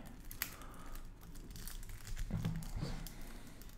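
A plastic blister pack of Magic: The Gathering Ixalan cards is twisted and pulled at, giving close, quiet crinkling and crackling that runs on steadily, with a few sharper snaps.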